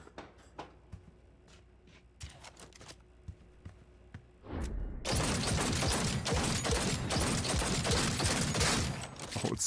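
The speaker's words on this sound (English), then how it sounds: "Johnny's pistol again." Johnny's pistol in Cyberpunk 2077, with sparse mechanical clicks and taps from handling and reloading, then a dense, loud burst of rapid shots filling the second half.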